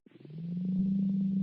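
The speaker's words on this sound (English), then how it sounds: "And then I just added this little sine wave." A synthesized sine wave tone in a music production sits as a steady, pure low hum after a brief fluttering onset, holding at an even level and heard alone.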